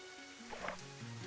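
Rain patters steadily in Elder Scrolls 2 over a soft game music drone, faint and continuous with no speech.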